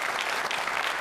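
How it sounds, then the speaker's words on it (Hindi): Audience at a Jain Social Group regional quiz show clapping, a brief burst of dense, even applause filling the whole moment. "तालियां बजाइए"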